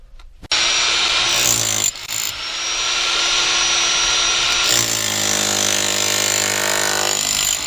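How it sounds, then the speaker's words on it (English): A hammer drill chisels concrete overpour off a footer in a crawl space, starting abruptly and hammering loudly and continuously at close range, with a brief dip partway through. "so you can see the hammer drill just takes it right off of there"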